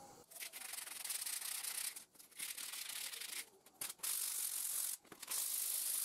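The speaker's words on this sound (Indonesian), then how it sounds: "Udah saya amplas, dites." Rough, rasping sanding strokes on metal come in sustained bursts broken by brief pauses, fairly close, during a Suzuki Satria FU motorcycle restoration.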